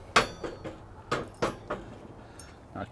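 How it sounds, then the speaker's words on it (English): Metal rebar pieces are pulled off a Pit Barrel Cooker and set aside, giving several sharp metallic clanks and knocks at uneven intervals, close and fairly loud against a quiet background. "Let's remove the rebar out of our way. Set these to the side."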